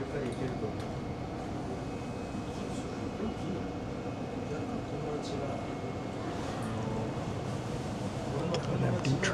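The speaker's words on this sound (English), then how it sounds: "It's about a 20-minute subway ride" Steady rumble of a Tokyo subway train in motion, a dense low roar with faint rattles and hiss running unbroken throughout, heard from inside the carriage.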